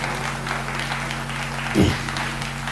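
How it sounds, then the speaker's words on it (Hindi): Steady applause from an audience at a Hindi poetry recital, a dense wash of clapping that holds at an even level throughout, with a low electrical hum underneath. "एक बार तालियों से आदेशित कर दीजिए जरा।"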